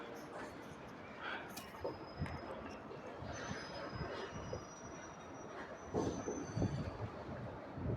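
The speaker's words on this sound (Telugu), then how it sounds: "ఏదో ట్రైన్ షంట్ అవుతుంది చూడొచ్చు అక్కడ మీరు" A train shunts slowly at a railway station, its wagons rumbling and clanking with faint wheel squeal and steady low rail noise throughout.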